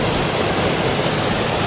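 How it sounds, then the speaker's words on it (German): A waterfall on Maui makes a loud, steady broadband roar of rushing water, continuous and close, with no voices over it. "Es ist auf jeden Fall ein Wasserfall"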